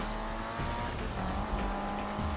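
In Need for Speed (2015), a race car brakes hard, its tires squealing in a sustained high screech over a loud, steady engine roar, with no talk.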